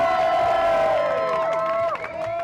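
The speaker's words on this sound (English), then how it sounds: "the rapper's supporters who were watching proceedings from the public gallery cheered and applauded" Rap group supporters in a courtroom public gallery cheer and shout loudly at close range, voices overlapping in a short burst of whoops before easing slightly near the end.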